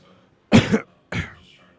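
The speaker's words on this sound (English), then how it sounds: "Excuse the cough." Two sharp coughs close to the microphone, a brief double burst followed by a second single cough, with quiet in between.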